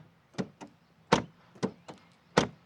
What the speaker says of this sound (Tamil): டோரோட தட் கேட்டிருப்பீங்கன்னு நினைக்கிறேன்